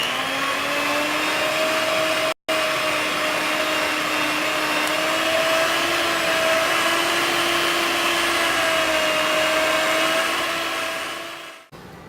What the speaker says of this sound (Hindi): ठंडा हो चुका है, अब इसको बीट कर लेते हैं।